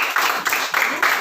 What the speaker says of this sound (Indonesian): itu tepuk tangan dulu buat Tuhan Yesus